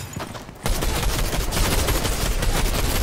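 A gold shotgun fires in a video game. After a short quieter start, the shots come as a dense, loud, continuous volley that fills the rest of the moment.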